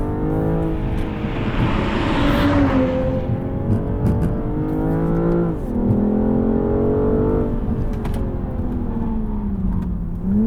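A 2021 BMW M440i xDrive accelerates hard, its engine note rising steadily and dipping sharply at a gear shift before climbing again, loud and close throughout with no talk.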